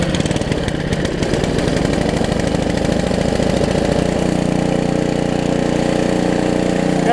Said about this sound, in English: Haven't run the snow blower in a long time, so hopefully it'll start up.